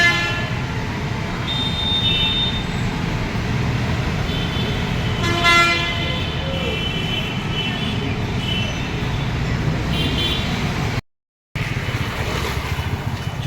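Busy road traffic near a metro station in Hyderabad: a constant roar of engines with several car horns honking, one long blast in the middle, and a brief drop to silence near the end.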